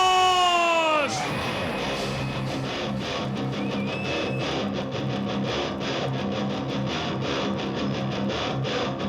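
Arena crowd at a Max Muay Thai Ultimate 2016 event cheering and clapping for a fighter, a steady wash of applause, whoops and shouting, with an announcer's voice ringing out over it at the start.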